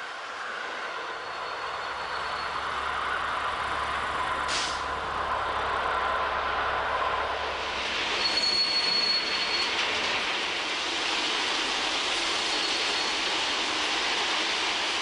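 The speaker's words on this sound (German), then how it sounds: "Auf dem bereits fertigen Nebengleis rollt der Planbetrieb." A train in regular service rolls along a newly finished siding on the Saale railway line during electrification works, with a steady, continuous rumble and the wheels squealing on the rails throughout.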